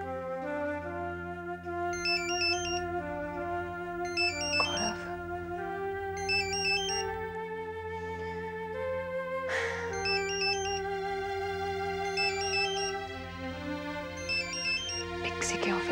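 A phone ringtone plays a repeating melodic chime pattern over steady music-like tones, loud and continuous for the whole stretch, with no one talking over it.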